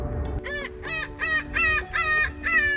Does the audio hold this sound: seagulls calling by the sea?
yes